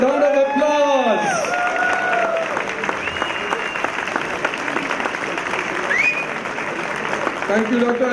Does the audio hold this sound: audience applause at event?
yes